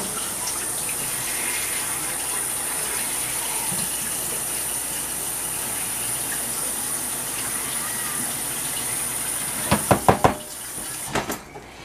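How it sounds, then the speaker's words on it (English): Cooking water poured out of a pot of yams into a sink: a steady rushing, splashing stream, followed near the end by a few sharp knocks of the pot. "So I'm going to go ahead and discard some of this water."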